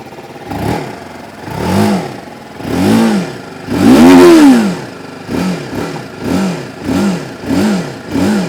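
A 2025 TVS Apache RTR 310 motorcycle engine revs up close in a quick series of throttle blips, about eight loud rising-and-falling surges, with one longer, higher rev in the middle.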